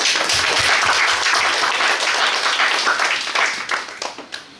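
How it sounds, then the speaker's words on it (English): An audience gives a round of applause at a presentation event, dense clapping that holds steady and then thins into scattered claps as it fades out. "Let's give them a round of applause."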